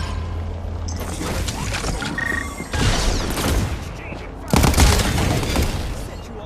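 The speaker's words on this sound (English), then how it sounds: "Stay alert. Exchanging fire." Video game firefight with bursts of gunfire and booming impacts, loud and continuous, with a calm in-game voice speaking over part of it.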